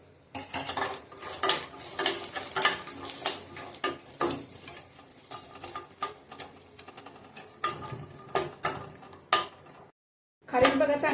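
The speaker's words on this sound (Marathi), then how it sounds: "खारीक बघा चांगली आपण तुपात भाजले गेले" Dried dates (kharik) frying in ghee in a pan while being stirred, giving a steady close sizzle with repeated scraping and clinks of a spoon against the metal, broken by a brief pause near the end before the frying resumes.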